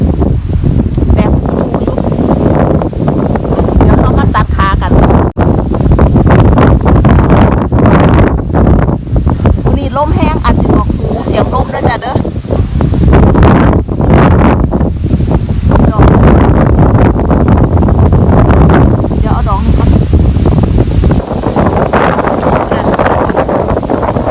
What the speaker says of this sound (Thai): ลมแห้งๆเนาะ